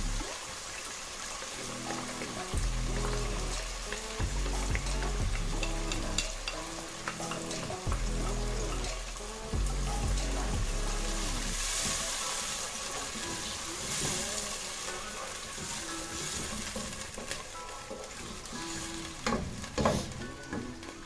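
Chicken Manchurian sizzles and fries in a pan with ketchup while a spoon scrapes and stirs in repeated bursts, the crackling hiss continuous and close throughout.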